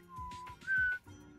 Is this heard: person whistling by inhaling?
yes